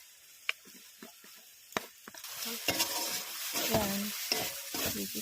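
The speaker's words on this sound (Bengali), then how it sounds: "কষছি এবার ভাবে কষছে, একটু একটু হালকা করে তেলও ছেড়ে দিয়েছে" Chicken curry masala stirred and sautéed in oil in a pan, with steady sizzling that builds partway through and occasional scraping knocks from the stirring.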